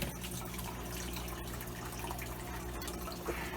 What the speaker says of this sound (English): see if it makes a little less bubbles